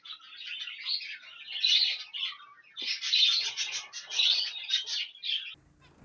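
Young birds chirp in dense, overlapping high twittering inside an aviary flight, rising and falling in bursts for several seconds before a brief low rustle at the end.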